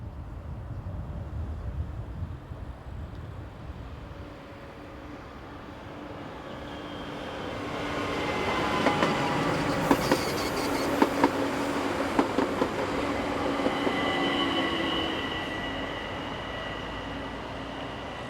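A local train runs along an Alpine railway line, a low rumble that swells over several seconds with clattering wheel noise, then fades toward the end.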